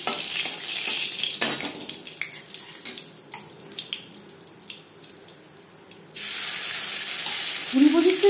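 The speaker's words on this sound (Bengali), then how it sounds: "কুড়ি 25 সেকেন্ড জিরে ভেজে নেওয়ার পর" Whole cumin seeds fry in oil with dried red chilli and bay leaf. Light clinks and stirring come first, then a sudden loud, steady hiss of sizzling takes over for the last couple of seconds.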